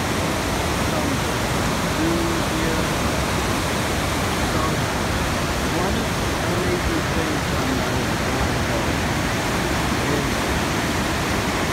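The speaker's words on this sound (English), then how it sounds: "The Niagara Falls is one of the most" Niagara Falls roars as a dense, unbroken wash of falling water, loud and constant from start to finish, with faint voices blended into the rush.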